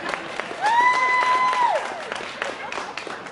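Reunion audience of former high school classmates applauding a classmate, a steady wash of many hands clapping at moderate distance with a brief whistle or cheer rising over it, no speech.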